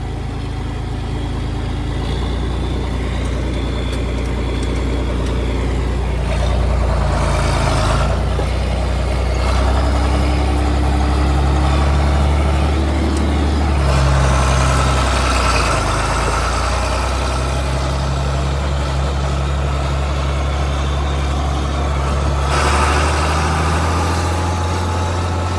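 A 4320 tractor with an M&W oil pan runs steadily for about 26 seconds, with a deep, loud idle broken by several brief revs. No one speaks.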